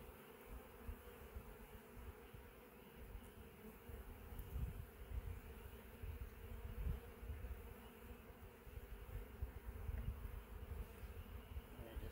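Bees from a fallen bee tree buzzing steadily around exposed comb being picked into buckets, a close, continuous drone of many wings with faint handling noise beneath.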